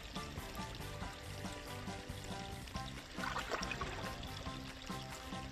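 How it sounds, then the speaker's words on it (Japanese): Water pours and splashes in a steady, low wash as mud is rinsed off a haul netted from the water, a continuous close sound without speech. "水洗いしてね、泥だけ落とします"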